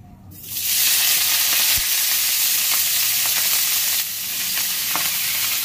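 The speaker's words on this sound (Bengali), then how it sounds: "কড়াইতে আমার তেল গরম হয়ে গেছে, এখন এটা পেঁয়াজ কলিটা দিয়ে দেবো ভাজতে।" Onion stalks hit hot oil in a kadai and burst into a loud, sudden sizzle that holds steady and bright, easing slightly near the end with occasional pops and stirring clinks, no voices.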